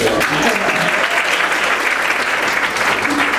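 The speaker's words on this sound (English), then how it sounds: "Give him a round of applause." Loud, dense applause from a crowd at a convention panel on a theme park Halloween event, steady clapping with some faint voices mixed in throughout.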